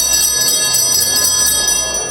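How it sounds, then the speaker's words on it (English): Bright metallic chimes from a Good Humor ice cream truck ring repeatedly and loudly at close range, sustained tones overlapping in a quick, jingling pattern. "That truck, or one just like it, used to drive by my house and they ring the bells"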